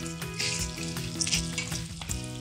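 Whole spices for goda masala, including cinnamon, star anise, cardamom, mace, nagkesar, black pepper and cloves, fry together in a pan with a steady crackling sizzle and a few brief stirring knocks.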